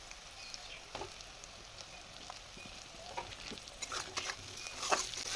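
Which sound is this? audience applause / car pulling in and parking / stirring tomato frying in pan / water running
stirring tomato frying in pan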